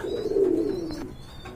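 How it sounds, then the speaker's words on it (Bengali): A khaki Giribaz pigeon gives one short, soft, low coo close by, in a quiet setting with no one talking. "খুবই সুন্দর একটা গিরিবাজের ভিতরে এটা খাকি কবুতর"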